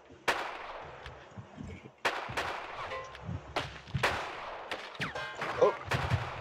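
Gunfire in the Roblox shooter Hellmet: sharp, fairly quiet shots crack out at irregular intervals, some single and some in quick pairs, with short decaying tails.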